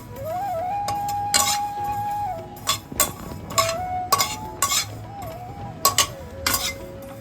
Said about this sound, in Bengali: আর এই দেখুন চটপট করে একটা আওয়াজ হবে